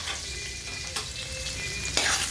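Onions sizzle in a frying pan as they go in for porkigado, a steady close crackle with a couple of sharp utensil knocks against the pan and no talking.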